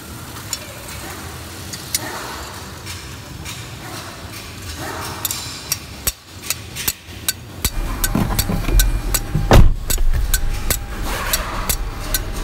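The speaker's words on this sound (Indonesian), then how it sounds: "Kita ketuk pakai palu saja biar dia terlepas kunciannya." Hammer tapping on the transmission selector lock of a Toyota Avanza during a leaking selector seal replacement, a run of sharp metallic knocks spaced irregularly in a workshop, growing louder and busier toward the end.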